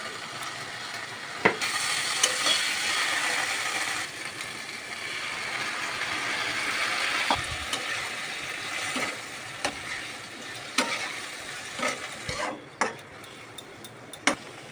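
Onion, ginger, cumin, green chilli and dry chilli pastes frying in oil for a Bengali tengra fish curry with potatoes, a steady soft sizzle with occasional clicks and scrapes throughout, moderately faint and without speech.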